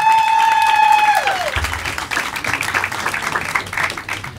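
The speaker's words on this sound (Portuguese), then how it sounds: "Eu quero que recebam com muitos gritos e muitos aplausos o carioca Nigel" A comedy show audience cheers and applauds to welcome a stand-up comedian, a sustained crowd roar and clapping that follows a sliding tonal fanfare, filling the room for several seconds.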